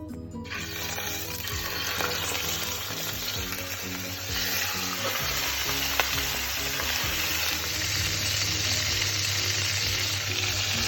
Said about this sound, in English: this stuff's really got its sizzle on.